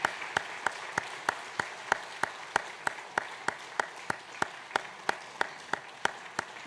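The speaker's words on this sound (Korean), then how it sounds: "큰 박수 부탁합니다" A church congregation at a Sunday baptism service claps in steady unison, sharp, evenly spaced beats repeating at a brisk, regular tempo over a soft background.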